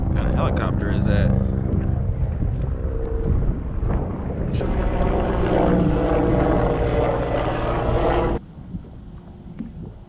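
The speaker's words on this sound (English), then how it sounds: "What kind of helicopter is that?" A helicopter passes near a fishing spot, its rotor drone loud and steady for about eight seconds, then cutting off sharply, leaving a faint background.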